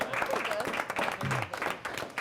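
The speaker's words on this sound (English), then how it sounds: "Give Matt a round of applause." Brief burst of studio audience applause for a contestant on a quiz game show, a short, moderately quiet patter of clapping with a voice speaking over part of it.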